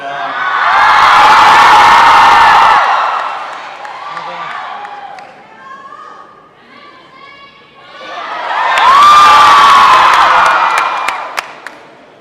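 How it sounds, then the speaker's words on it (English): A conference audience in Argentina screams and cheers in two loud bursts, the first lasting a few seconds and the second swelling up after a quieter stretch of chatter and scattered whoops. "I love how easy it is to make you guys scream."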